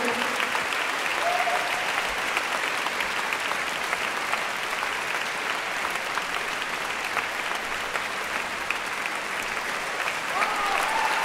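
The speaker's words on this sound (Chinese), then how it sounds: "我们最后再一次热烈掌声" A concert audience at a university gives sustained, dense applause lasting the whole stretch, loud and even, with a faint voice briefly audible beneath the clapping.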